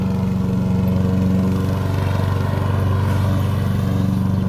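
A lawn mower runs steadily close by as it cuts a residential front lawn, a continuous droning engine with a throbbing low hum and no voices.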